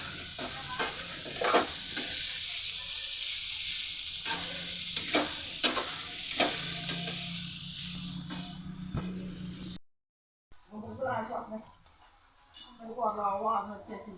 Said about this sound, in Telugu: ఇక అల్లం వెల్లుల్లి పేస్ట్ వేస్తున్నానండి పచ్చివాసన పోయిన దాకా వేయించుతాను